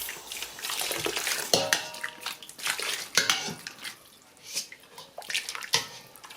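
Hot maltose liquid sloshes and splashes in uneven bursts as a whole duck is dipped and the liquid is ladled over it against a metal pot, close and fairly quiet.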